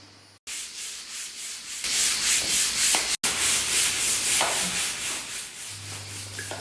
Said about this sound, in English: Constant breaks were required while sanding the ceiling.